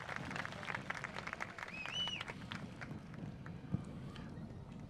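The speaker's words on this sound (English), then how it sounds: "Let's give them another round of applause." Applause from an outdoor ceremony crowd at a National Day of Peace event, honouring the Royal Bermuda Regiment, with steady clapping and a low rumble beneath, one sharp louder clap near the end.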